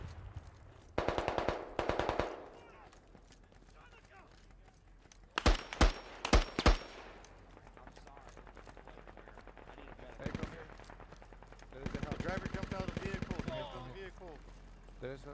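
Short bursts of machine-gun fire from an MG in the Squad military game, several loud rattling volleys with gaps between them, while someone talks over the action.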